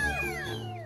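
A domestic cat gives a single short, clear meow, close and fairly loud, lasting under a second.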